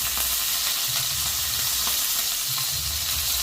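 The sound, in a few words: food coated with turmeric deep frying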